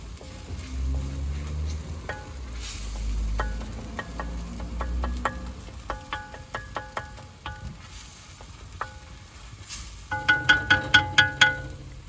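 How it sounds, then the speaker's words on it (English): Tomatoes sizzle in a pot being stirred for a mopane worm dish, with a soft steady fry under repeated close spoon clinks and scrapes against the metal, the knocks quickening into a rapid burst near the end. "Just need to stir and stir because we don't want those tomatoes to be uncooked."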